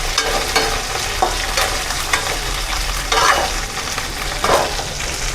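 Curry leaves sautéing in a pan for a bilimbi (irumban puli) pickle give a steady close sizzle, with stirring scrapes and a few louder bursts of crackle, and no talk.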